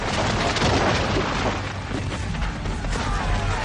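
Cannon fire booms during a Napoleonic battle, a dense, continuous roar of artillery blasts and crashes filling the scene without pause.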